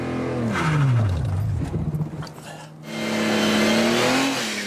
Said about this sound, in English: Right, big rev.